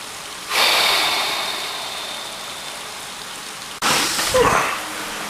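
Rain hisses in a sudden loud rush that holds steady, cuts out abruptly for an instant, then returns with heavier spattering.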